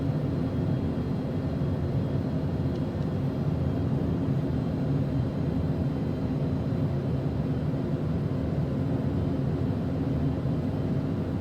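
Steady broadband aircraft cabin noise during descent on a flight from Karachi to Mumbai, a constant low rumble and hiss with no changes, moderately loud and unbroken.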